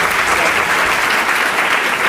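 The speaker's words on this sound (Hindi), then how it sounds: "जोरदार तालियां हो जाए" Studio audience applause on a televised Hindi quiz show, steady and loud clapping filling the whole stretch without a break.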